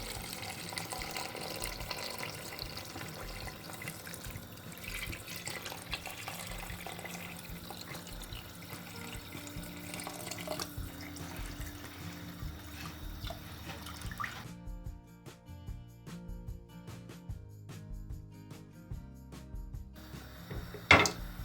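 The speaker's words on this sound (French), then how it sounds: "On ajoute de l'eau." Tap water runs steadily into a cooking pot for Moroccan harira soup, a continuous splashing rush that cuts off partway through, followed by quiet kitchen stillness and a brief clatter near the end.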